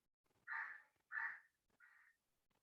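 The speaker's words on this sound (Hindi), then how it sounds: "कौवे का आवाज आ रहा होगा." A crow caws three times from a short distance, two loud harsh calls followed by a softer third, with near silence between them.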